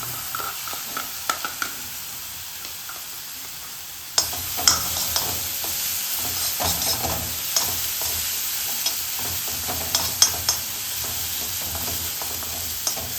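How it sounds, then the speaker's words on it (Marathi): Green chillies fry in hot oil in a pan with a loud, continuous sizzle that jumps louder about a third of the way in, punctuated by frequent sharp spoon clicks and scrapes against the pan. "आपली इकडे मिरची फ्राय होतीये"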